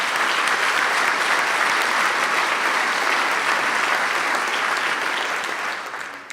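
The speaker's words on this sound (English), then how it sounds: "Let's give yourselves a round of applause for that." An audience at a community breakfast gives sustained, dense applause, many hands clapping loudly and evenly for about six seconds before it begins tapering off at the end.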